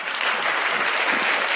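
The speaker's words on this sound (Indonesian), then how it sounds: "Tepuk tangan Nos." A dense, steady wash of applause from a crowd fills the whole moment, even and close, with no pauses.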